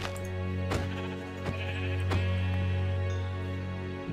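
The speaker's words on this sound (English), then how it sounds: "I just got jump scared by a freaking sheep in a freaking game of Minecraft." Sheep in the Minecraft video game bleat repeatedly, a few short wavering calls standing out clearly over a low steady background hum.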